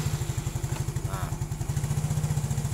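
A Yamaha fuel-injected motor scooter engine fires up after a jumpered starter and runs with a rapid, even putter, loud and close, settling into a steady idle.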